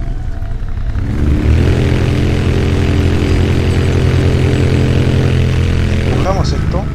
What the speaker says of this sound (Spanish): subimos a moto